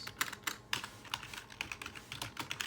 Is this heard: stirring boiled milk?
no